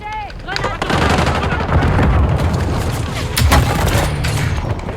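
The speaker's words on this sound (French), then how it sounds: "Grenade lancée." A grenade explodes amid a firefight in the video game Call of Duty. Loud, dense booms and rattling gunfire fill the whole stretch with no pauses.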